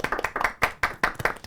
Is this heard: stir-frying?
no